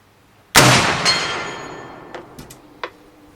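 A Whitworth rifle fires a single loud, sharp shot nearby, and the report rings and decays over a couple of seconds, followed by a few faint knocks, with no talk.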